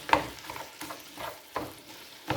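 Ground hamburger meat and onion being stirred with a spatula in a big pot for spaghetti sauce, giving soft scraping, sizzling strokes that repeat roughly every second, close and moderately quiet.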